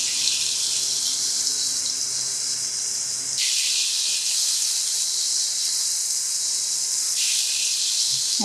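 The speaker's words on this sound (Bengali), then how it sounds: "এখন আমি চিকেনটা একটু ভেজে নেব।" Chicken pieces frying in about one and a half spoons of cooking oil in a pan, a steady, loud, continuous hiss and sizzle with no talking.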